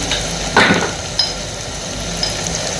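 Oil and onions sizzling steadily in a pan for a rice dish, a constant bright hiss with a couple of brief stirring clinks, close and fairly loud, no talk.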